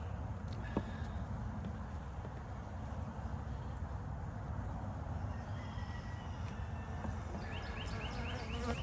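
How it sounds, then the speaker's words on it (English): A steady, dense buzz of agitated honey bees swarms around the apiary hives while splits and hives are being fed, continuous and close throughout with no talking. "these bees aren't happy."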